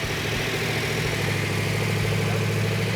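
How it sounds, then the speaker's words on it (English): A freshly rebuilt Dodge Challenger engine idles with a steady, even rumble, heard close up and alone without any talking. "it fired up and ran really good, really strong"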